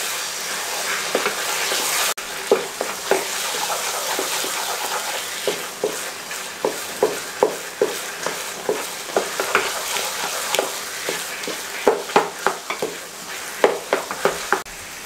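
Moong dal halwa stirred in a pan over a raised flame, a steady sizzle broken by repeated scraping strokes of a spoon at an even rhythm, close and moderately loud with no talking.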